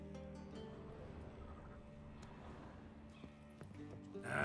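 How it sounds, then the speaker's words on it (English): Horses in The Witcher 3 video game clip-clop steadily in a stable, with a brief whinny-like rise near the end over a low background hum. "Gotta calm all the horses before they wake the guards."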